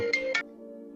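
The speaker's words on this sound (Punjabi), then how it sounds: "ਪਿੰਦਰ ਨੂੰ ਯਾਦ ਕਰਨ ਕਿੰਨੀ ਉਮਰ ਲੰਮੀ ਦਾ ਫੋਨ ਆ ਗਿਆ" A phone rings with a short electronic ringtone: two bright tonal pulses over a sustained melodic tone, heard close and clear with no talking.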